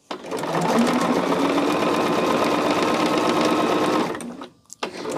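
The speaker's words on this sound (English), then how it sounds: "I'm just going to chain stitch all of this together for us so we can get these rows going on and done." Sewing machine chain stitching quilt rows, a loud, close, steady mechanical whir running continuously for several seconds before stopping, then a couple of brief clicks.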